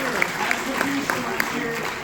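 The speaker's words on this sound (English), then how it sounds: "officially give these guys a round of applause" Steady crowd applause fills the space, a dense patter of clapping with a few louder claps standing out, voices faintly mixed in.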